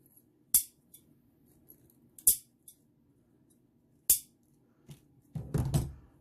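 Scissors trim the ends of poly burlap mesh for a sunflower wreath. A few sharp, separate snips and clicks fall between quiet gaps, and the clip ends in a short burst of rustling mesh.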